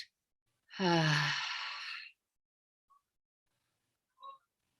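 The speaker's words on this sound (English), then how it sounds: "Feel a big breath in and an open mouth breath out." A single deep, open-mouthed exhale during a yoga breathing exercise, a breathy sigh about a second long that starts voiced and then fades, followed by two faint beeps in otherwise quiet surroundings.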